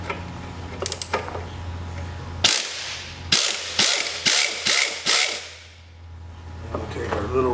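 A wrench loosening a stubborn bolt on a 1948 Harley chassis gives a few light clicks and then a loud burst of sharp ratcheting snaps in quick succession, close by and without speech.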